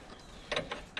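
A ratchet tightens a nut on the lower ball joint of a 2008 Citroen C1 with a few close, sharp clicking bursts over quiet background, no talking.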